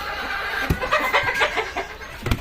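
Free-range hens on a village poultry farm, clucking in short, irregular bursts that come close and fairly loud against a quiet farmyard background, with no talking.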